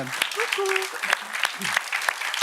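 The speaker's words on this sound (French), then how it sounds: "on peut les applaudir" An audience claps for small children from the Appietto school in Corsica, with scattered sharp handclaps mixed in with a speaker's voice.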